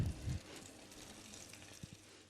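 Hot desi ghee tempered with round red chilies and cumin is poured over the dish, giving a soft, faint sizzle with a couple of light taps close by.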